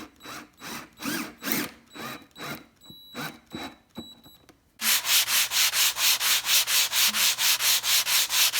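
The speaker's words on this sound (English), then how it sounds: "we'll just sand off the Numbers." Wood being sanded to strip printed numbers, with rhythmic back-and-forth rasping strokes close by, a pause, then a faster, louder run of even strokes over a low hum.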